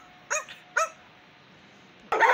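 Two dogs on a hill walk in Pakistan bark twice in sharp separate yaps about half a second apart, fairly close, before a burst of louder noise at the end.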